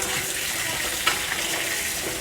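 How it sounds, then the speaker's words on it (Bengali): Potatoes fry in hot oil in a wok-style kadai, giving a steady, close, even sizzle for a couple of seconds with one small spatter partway through. "কড়াই তেল দিয়ে দিয়েছি, তেলটা গরম হয়ে গেছে। আলুগুলো ভেজে নেব।"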